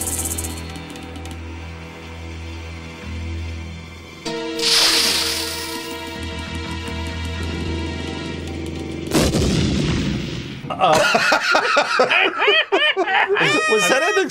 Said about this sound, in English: Was that an explosion from Star Wars?